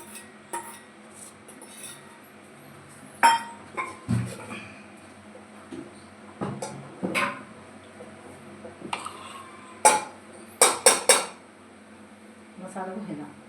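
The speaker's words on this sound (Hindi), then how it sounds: "तो अब ये लड़का छौंक रहा है सब्जी।" Vegetable curry with chopped tomatoes being tempered and stirred in a pot, with scattered metallic clinks and scrapes of a spoon against the pot, some louder knocks, and faint talk in the background.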